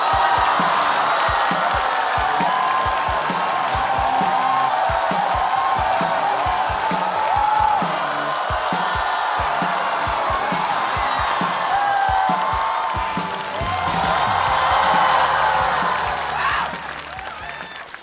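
A studio audience on a Chinese stand-up comedy competition show greets the final comedian with sustained, dense applause mixed with cheers and whoops, loud and continuous for the whole stretch.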